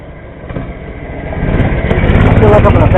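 Mini bike engine with a new clutch running steadily and building in loudness as it revs up, close and continuous, with a rider on it.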